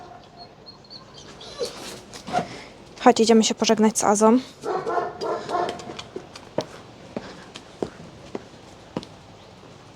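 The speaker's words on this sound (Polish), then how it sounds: "Szczeka na kogoś, słyszałeś?" A dog barks a few times amid a person speaking nearby, with scattered soft clicks and movement around them.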